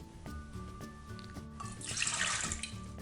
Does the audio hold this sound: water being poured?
yes